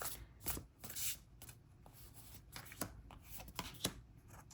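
Tarot cards being shuffled by hand at a reading, soft irregular riffling and slapping bursts close by, with no one talking.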